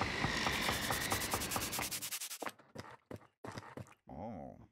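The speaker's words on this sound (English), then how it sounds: "sanding really is just the removal of material to try and gain some sort of a result" Hand sanding of wood, a rhythmic series of rasping back-and-forth strokes, fast and steady at first, then slower separate strokes, close and clear.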